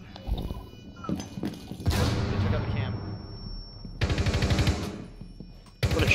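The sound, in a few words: gunshot in Rainbow Six Siege video game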